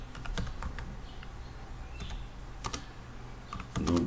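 Keys clatter on a computer keyboard while a spreadsheet title is typed, a close run of light, irregular clicks with short pauses and a brief burst of louder handling near the end.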